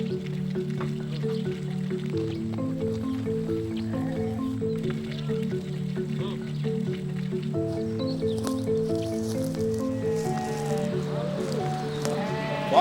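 Sheep bleating in a village barn during early-morning milking and cleaning chores, several repeated calls near and far over a steady hum with faint dripping and a few quiet voices.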